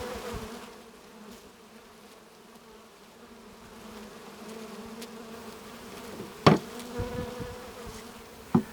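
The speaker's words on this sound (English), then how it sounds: "that just keeps all excess bees from flying around" Honeybees from a 3 lb package buzz in a steady, moderately close drone during hive installation, with a few sharp knocks near the end.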